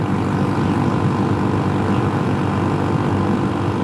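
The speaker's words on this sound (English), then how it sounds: "Just got the throttle pinned open," Small mini-moto scooter engine held at full throttle on California Highway 36, a steady, loud, droning buzz with constant wind rush, continuous and unbroken with no talking.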